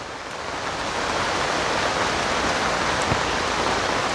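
Heavy rain pours down as a dense, even hiss with no pauses, loud and close.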